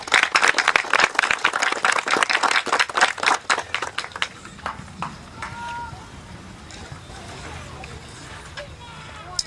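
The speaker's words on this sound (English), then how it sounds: "You should give yourselves a hand of applause." Audience applause at an outdoor park celebration for a creek restoration project, a burst of dense clapping for about five seconds that fades into quiet outdoor ambience.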